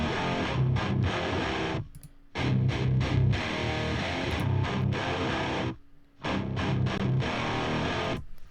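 Heavily distorted metal guitars, remixed, chug in loud, dense riffs that stop abruptly in short breaks before crashing back in.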